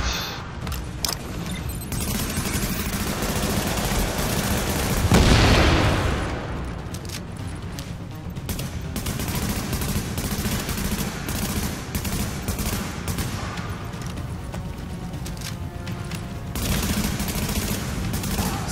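Rapid bursts of gunfire from a shotgun and an automated sentry in the video game The Division, dense continuous shots with a louder blast midway, sustained and near throughout.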